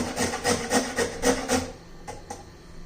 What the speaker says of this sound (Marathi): थोडस गाजर पण किसून घालू